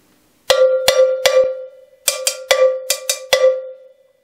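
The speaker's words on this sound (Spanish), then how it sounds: "Aquí tengo un cencerro de tamaño medio, que no es de marca" A cheap, unbranded medium-size cowbell is struck ten times in an irregular pattern, each hit ringing with a bright metallic clank and a short decay, close and alone with no voices.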